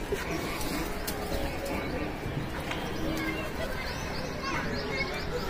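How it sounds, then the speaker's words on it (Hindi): Pigeons coo over a busy, noisy background, with a few faint chirps and flutter-like bursts; a voice may be talking underneath. "ये देखें ये जा रहा है एक कबूतर"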